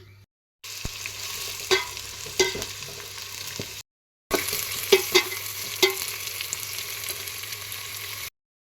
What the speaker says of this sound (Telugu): ఇందులోనే ఆయిల్ వేసుకొని ఆనియన్స్ని ఫస్ట్ సౌతే చేసుకుందాము బాగా రెడ్గా చేసుకొని సైడ్ తీసేసుకుందాము